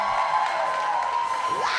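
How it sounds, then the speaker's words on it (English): Crowd applause and cheering in Philadelphia for a singer, a dense roar of clapping and shouts with a sustained tone running through it and a rising whoop near the end. "give a great round of applause"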